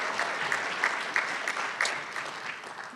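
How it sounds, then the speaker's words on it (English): Audience applause at a Seattle community rally, a steady wash of many hands clapping with a few sharper claps popping out, sustained for the whole stretch. "Let's give her a round of applause."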